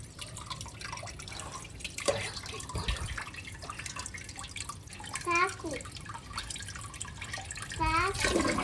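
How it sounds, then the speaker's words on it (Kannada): Water runs into a container and drips steadily outdoors during rainy-day play, a continuous splashing trickle with scattered drops, while people talk over it. "ನೀರು ತುಂಬಿಸ್ತಾನೆ ಇರಿ ಅದು ಬೀಳ್ತದೆ ಅದ್ರಷ್ಟಕ್ಕೆ"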